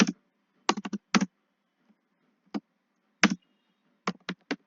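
Keys clack on a computer keyboard as an SQL query is entered: short bursts of crisp, close taps in uneven clusters with quiet gaps between, and no voices.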